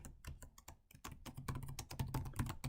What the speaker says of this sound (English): Meanwhile, I will type one more thing.